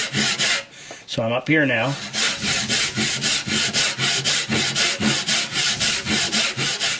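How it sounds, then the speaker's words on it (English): A hand saw cuts through wood in a steady rhythm of close push-and-pull strokes, about two each second, after someone speaks briefly at the start. "I'm letting the saw, the weight of the saw do the work"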